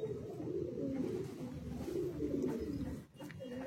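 Kalsira Madrasi high-flying pigeons coo steadily in a low, continuous murmur from several birds close by, a soft overlapping warble that dips briefly near the end.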